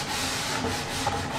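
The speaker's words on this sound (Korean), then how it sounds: "재단 후 1차 조립을 마치면 사포 작업에 들어간다." Hand sanding of a wooden door with sandpaper after first assembly, a continuous close rasping rub with slight swells as the strokes move across the wood, no talk.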